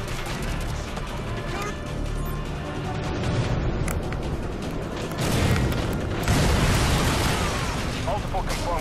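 AGM missile explosions in the video game Modern Warfare 2 form a continuous, dense roar of booms and blasts that swells louder in the second half, with radio voices talking over it.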